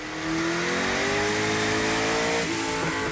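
A Hennessy Venom F5 Evolution's twin-turbo 6.6-litre engine revs loudly and close, its steady, rising drone holding without pause before a brief dip near the end.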